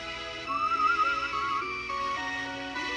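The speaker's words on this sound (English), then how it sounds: "I shouldn't whistle." A person whistles a sustained, wavering tune that rises and falls for about two seconds over a steady background hum, then the tone drops lower and trails off.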